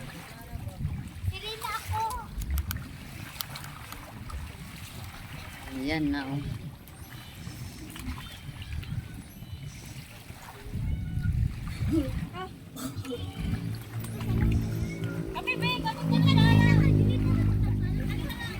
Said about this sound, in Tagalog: mga tampisaw sa dagat